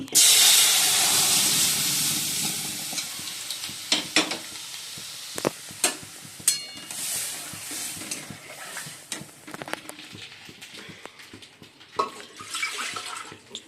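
Boiled mung dal is poured into hot spice tempering in a wok, setting off a loud burst of hissing sizzle that slowly dies down, followed by scattered stirring clinks and scrapes.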